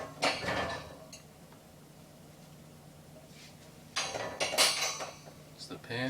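A metal spatula clatters against a pan while a pizza-quesadilla is being prepared, with two close bursts of clanking and scraping separated by a quieter stretch of low room hum.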